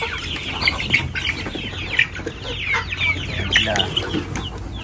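Laying hens and young two-month-old chickens on a poultry farm, clucking and squawking busily at close range with a brief flutter of wings, while someone talks in the background.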